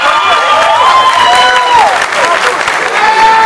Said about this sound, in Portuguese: Uma salva de palmas aí do Paulo.